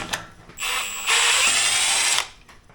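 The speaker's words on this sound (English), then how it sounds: "Then we're going to loosen this locking bolt here." A power tool loosens the locking bolt beside a Bobcat's PTO, rising from a brief whir into a loud, sustained high-pitched spin of nearly two seconds before cutting off, close and alone.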